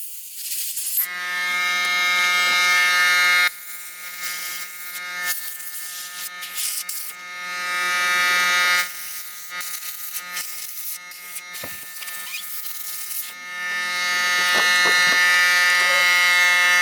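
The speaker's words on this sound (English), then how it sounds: "So now I'm going to go give this a dust blowout" A small electric air blower whines and buzzes as it clears dust out of a PS4 Slim console, running in loud bursts of a few seconds with short pauses and light handling noise between them.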